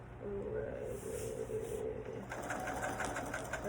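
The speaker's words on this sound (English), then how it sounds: "Oh, I hope I'm sewing this" A sewing machine stitches fur robe fabric, its rapid mechanical whir running steadily and close, changing pace partway through, with soft background noise.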